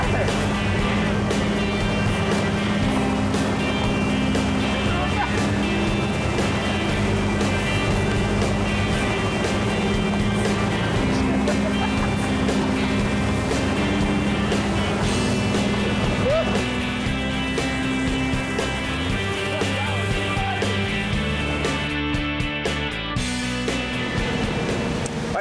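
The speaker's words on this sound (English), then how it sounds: "That's the grinder sound. That's the bottles being ground inside." A plastic bottle grinder runs at a recycling plant, giving a loud, steady mechanical drone with a low hum and grinding clatter that persists throughout, with faint voices now and then.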